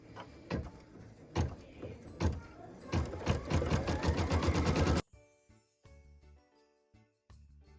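An embroidery machine stitches a tack-down line in jade thread onto felt over stabilizer for a Christmas ornament, running in a steady rapid rattle for about five seconds before stopping, then a few faint clicks and hums.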